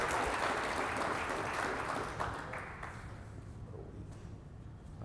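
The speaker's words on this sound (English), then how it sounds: "if I could get a hand of applause for Dan" A forum audience at an energy transition event applauding a panelist, a dense wash of clapping that is loudest at the start and fades steadily over a few seconds.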